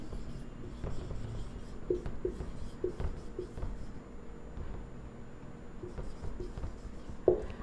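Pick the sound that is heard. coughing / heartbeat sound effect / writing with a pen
writing with a pen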